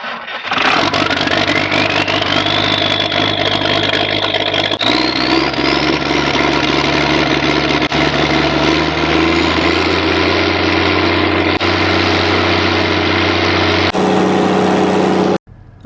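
A farm vehicle engine idles steadily in a Nebraska field, a loud, close, continuous drone with a rising whine partway through and a sudden cutoff at the end.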